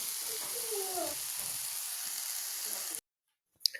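Chicken for tacos sizzles and fries in a pan, a steady close crackle for about three seconds that cuts off abruptly, followed by a brief faint clatter.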